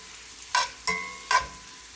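Broccoli sears in a pan with butter and garlic, giving three short bursts of sizzling and stirring clatter over a faint, quiet background.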